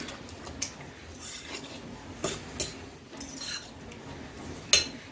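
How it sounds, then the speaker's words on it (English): Spoon scraping and clinking in a bowl while casserole ingredients are mixed with pink Himalayan salt, soft irregular rubs with a few sharper clinks, close and fairly quiet. "we're just going to mix that all in together"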